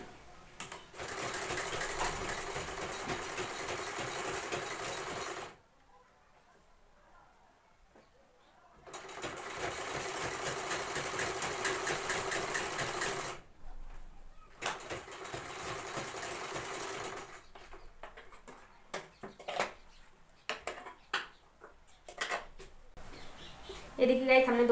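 Sewing machine stitching a fabric pillow cover, two long steady runs of loud whirring broken by silent gaps, followed by scattered clicks and handling noises near the end.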